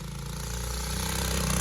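A rat quad bike's engine runs steadily and close by, a low buzzing drone that builds slightly over a short stretch.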